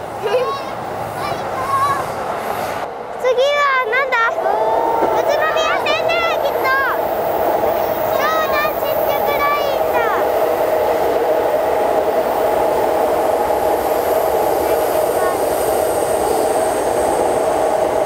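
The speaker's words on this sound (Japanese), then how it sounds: "あ、新幹線だ" A Shinkansen bullet train passes along an elevated line near the old Kita-Oji freight line in Tokyo, a steady broad rushing roar that holds loud and continuous, with a person speaking briefly early on.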